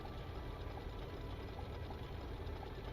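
Generators in the Stormworks video game running at high revs, a steady mechanical drone with a faint rhythmic knock, continuous and fairly quiet with no voices.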